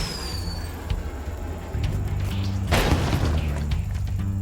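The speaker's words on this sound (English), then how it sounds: "when we light this rocket" In Spyro Reignited Trilogy a rocket is lit and launches, giving a steady low rumble that steps up into a loud whooshing burst partway through, then settles back into a sustained roar.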